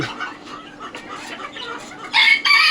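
Chickens on a poultry farm cluck faintly over low barnyard noise, then a rooster lets out a loud, nearby crow near the end.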